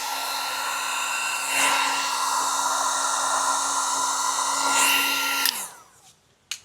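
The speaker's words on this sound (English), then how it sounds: "So I'm gonna go ahead and heat it up." A heat gun blows a loud, steady whine while warming vinyl wrap on a car, holding one even pitch close up for several seconds before switching off and winding down.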